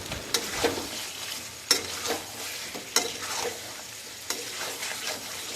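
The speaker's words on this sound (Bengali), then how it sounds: "এই মাংসটা খুব ভালো করে নাড়ছি না হলে নিচে একটা লেগে যাওয়ার সম্ভাবনা থেকে যাবে" Chicken pieces frying in a pan while being stirred, a steady sizzle broken by several sharp scraping stirs at irregular intervals, close and clear with no talking.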